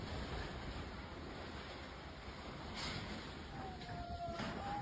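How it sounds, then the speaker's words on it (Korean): Strong typhoon waves crashing ashore in the Philippines, a steady roaring surf with heavy wind noise buffeting the microphone, continuous and loud without any voices. "태풍으로 강한 파도가 밀려들면서 많은 살림집들이 파괴되고"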